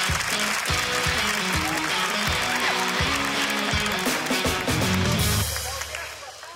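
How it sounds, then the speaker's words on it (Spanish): Loud, sustained audience applause fills a Spanish-language comedy show stage, dense clapping over music and a speaking host, fading out near the end. "Un fuerte aplauso para Taquis"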